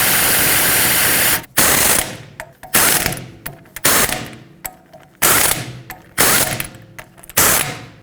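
A wrench drives the rear wheel bearing hub bolts on a 2008-2010 Ford F-250, working in a cross pattern. It opens with one long, loud rattling burst, followed by about six short, sharp bursts at a steady rhythm.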